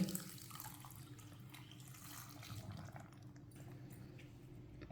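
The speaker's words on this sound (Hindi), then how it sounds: "1 गिलास पानी डाल लेंगे।" Steady, faint running water as a glass of water is poured into a blender jar for guava juice, continuing alone without voices for several seconds.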